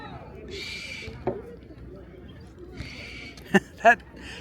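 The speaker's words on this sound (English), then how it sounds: "That screeching noise is a bird coming out of the 3rd floor window of that apartment building" Two sharp, shrill bird screeches from a third-floor apartment window ring out near the end, standing out over a steady background of murmuring voices and street noise in Brooklyn, New York.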